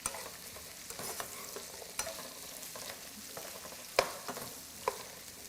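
Asparagus sautés in a hot pan with a soft continuous sizzle, punctuated by scattered clicks and scrapes of a utensil stirring, including a sharper knock near the end.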